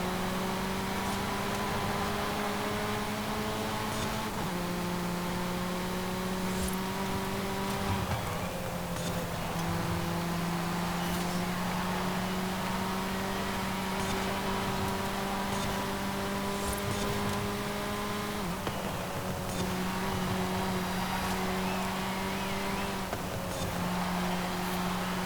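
Race car engine in Forza Horizon 5, driving an MG MG6 XPower in an A Class race: a steady, buzzing high-revving whine that drops in pitch at several gear shifts over about 25 seconds, with no talk.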